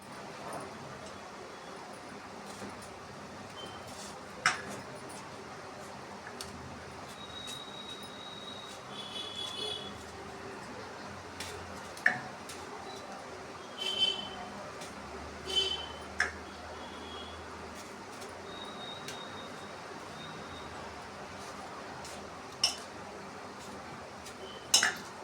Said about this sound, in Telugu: టమాటాలు అయితే కట్ చేస్తున్నాం